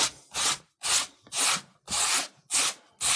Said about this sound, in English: let's just scrape off this foam